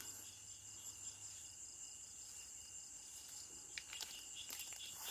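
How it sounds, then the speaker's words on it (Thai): Night insects chirp steadily around blooming durian trees in an orchard after dark, a faint continuous high trill with some pulsing, joined by a few light ticks and rustles toward the end. "มี แมลงกลางคืนด้วยครับ"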